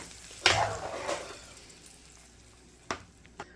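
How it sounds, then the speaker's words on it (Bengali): Cumin and garlic tempering sizzles in hot oil as it is poured into an eggplant and bean curry, a sharp hiss at first that fades to a low fry, with a few brief scrapes afterward. "এখন এটাকে আমি ফ্রাই করে নিব, সরি আমি এটাকে একসাথে মিক্স করে নিব।"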